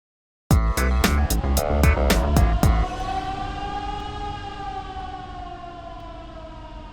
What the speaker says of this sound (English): An evacuation order may be given if there's an incident such as a fire or gas release. When you hear this siren